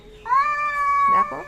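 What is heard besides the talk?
two cats fighting, yowling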